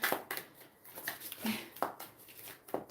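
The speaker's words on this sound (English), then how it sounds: "I do like the sound of shuffling cards" Playing cards being shuffled nearby, a series of quick riffling flutters and soft slaps repeating every second or so.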